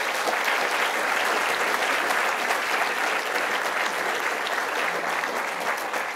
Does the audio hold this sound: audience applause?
yes